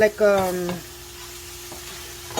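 Sliced hot dogs sauté in a pan, sizzling under a utensil that stirs and scrapes a few times at the start, then keep frying steadily with occasional light clinks.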